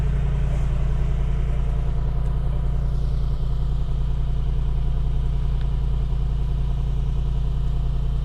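A 2020 Mercedes-Benz AMG G63 V8 idles steadily after start-up in regular driving mode, a loud, deep, even rumble close by with no talking.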